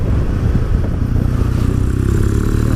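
A Kawasaki W800 motorcycle engine rumbles loud and close while riding, with a steady low throb, slight mechanical clatter, and a gradual rise in pitch as it accelerates.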